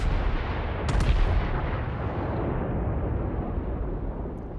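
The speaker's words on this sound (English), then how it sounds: "Get close here and take some speculative shots at the Chapayev" A heavy battleship gun salvo from a Tier 9 Missouri US battleship, fired at the cruiser Chapayev in World of Warships: a deep, booming blast with a long rumbling tail that fills the whole stretch, no voices.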